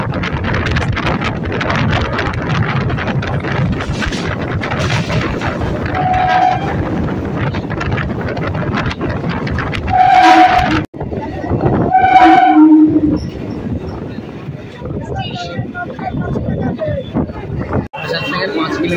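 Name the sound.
local train departing Barasat Junction, ICF coach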